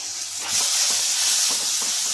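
Soy sauce hitting a hot pan of roasting sausage and bursting into a loud, hissing sizzle, the steamy crackle swelling after a brief moment and holding steady, close to the pan with no voices.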